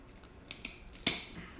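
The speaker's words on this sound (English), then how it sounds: "So we take this, I'm going to cut it right here." A bicycle brake cable is snipped with a cutter while fitting a London Mod Gyro brake setup to a BMX. A few light metallic clicks and a single sharp cut sound close up in a quiet room.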